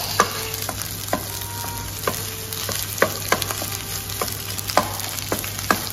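Maitake mushrooms and bacon stir-frying for fried rice, with regular sharp utensil taps and scrapes against the pan over a low, steady sizzle.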